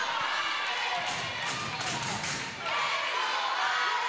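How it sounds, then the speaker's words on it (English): Crowd noise filling a small high school gym during a girls basketball game, a dense reverberant roar of voices and cheers with occasional thuds, continuous throughout. "The crowd is getting into this game."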